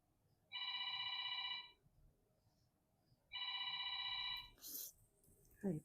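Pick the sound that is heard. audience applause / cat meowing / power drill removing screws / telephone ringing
telephone ringing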